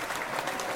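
Applause from a studio crowd on an on-air talk show, a steady wash of clapping and cheering that runs unbroken through the whole short burst.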